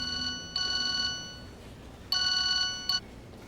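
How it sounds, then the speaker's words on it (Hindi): A telephone rings in two short electronic bursts, then two more, fairly faint, with quiet background noise and no talking. "दमीर, उठाओ फरमान, फोन उठाओ प्लीज, फोन उठाओ।"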